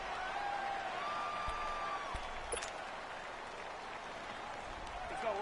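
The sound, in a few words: Arrowhead stadium crowd in a football video game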